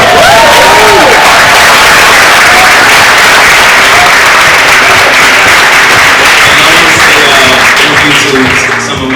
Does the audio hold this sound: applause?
yes